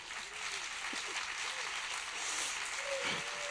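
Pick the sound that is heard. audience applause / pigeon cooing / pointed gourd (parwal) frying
audience applause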